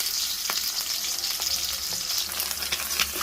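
Onion and green chilies frying in hot oil, a steady close-up sizzle with occasional soft stirring clicks, alone without talk.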